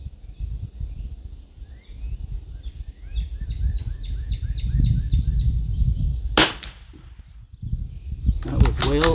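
A rifle fires once at a shooting range, a sharp, loud crack about two-thirds of the way in, followed by a second sharp burst near the end, with birds chirping and low rumbling handling noise around it.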